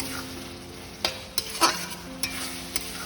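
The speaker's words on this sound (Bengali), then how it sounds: "এটা 2-3 মিনিটের মতন নাড়িয়ে নিতে হবে" Stir-frying vegetables for mixed chowmein in a pan, a soft sizzle under a handful of sharp spatula scrapes and clanks spaced irregularly, close and without talking.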